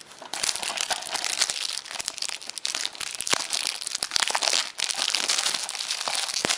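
Plastic shrink wrap torn and crinkled off an Assassin's Creed Brotherhood Auditore Edition game case, close and loud, a dense continuous crackle with brief pauses.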